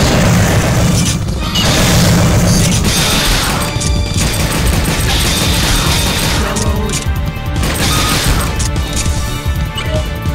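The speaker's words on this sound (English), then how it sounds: "Use the flame grenades instead." Flame grenade explosions in the Dino Stalker video game: a dense run of loud booms and crashes fills the whole stretch, with repeated blasts layered over continuous game noise and possible faint voice.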